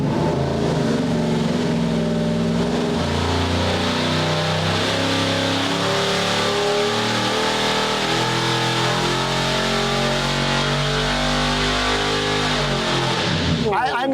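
Small-block Chevy 305 V8 on a dyno, running hard and loud at steady high revs for a long pull before cutting off abruptly at the end.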